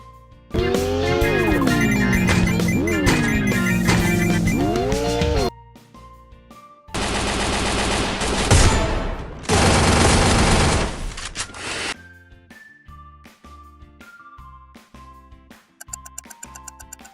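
Gunfire from the mobile battle royale game Free Fire, with rapid bursts of shots in two loud blocks separated by short gaps, set among game music and electronic tones.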